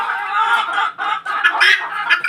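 A hen clucks loudly and close by in quick, uneven bursts, a continuous run of agitated calls with no one speaking.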